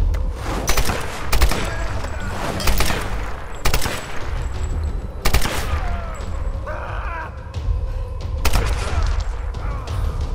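Video game gunfire in Tomb Raider: repeated loud shots and bursts crack out at irregular intervals over a steady rumble, with a brief voice-like sound partway through.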